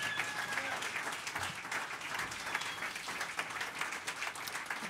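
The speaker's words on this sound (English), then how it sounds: "Can we give them collectively a huge round of applause?" Dense applause from a live jazz club audience greets a jazz trio, a steady wash of many hands clapping that stays even throughout, moderately distant.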